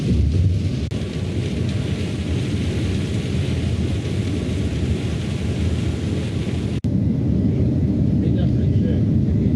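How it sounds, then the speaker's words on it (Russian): A heavy downpour hammers down outside in Şanlıurfa, heard as a dense, loud, continuous roar of rain that persists through a brief break, with no clear talk over it. "Дождь лупасит, как из ведра, просто ничего не видно."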